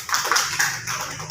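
Schoolchildren in a classroom give a short burst of hand clapping during an Islamic studies lesson, uneven and moderately loud, with individual claps standing out from the patter.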